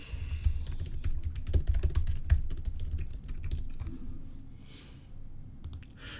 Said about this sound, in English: Let me just type it